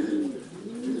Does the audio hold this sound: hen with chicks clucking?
no